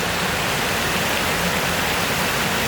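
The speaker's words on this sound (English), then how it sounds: "while it's pouring down so much, we might as well let it pour out" Heavy rain pouring down on a roadside during a motorcycle trip in hot weather, a dense, unbroken roaring hiss that stays loud and even throughout, with no voices.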